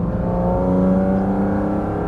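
Porsche 718 Cayman GT4 RS flat-six engine accelerating on a wet road, a steady loud, rich engine drone with strong harmonic tones rising slightly throughout, heard from inside the car.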